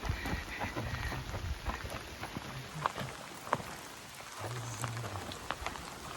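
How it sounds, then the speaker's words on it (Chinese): Heavy rain falls on a mountain path near a Sichuan cliff village, heard as a faint, steady patter with scattered sharper drips and taps. "开心不过1秒钟，又下了大雨了"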